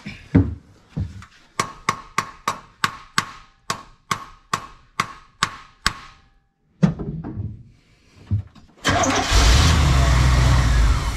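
Squarebody Chevy truck engine cranks in a rapid rhythmic series of starter bursts, pauses, sputters briefly, then catches and runs at a loud steady idle close by.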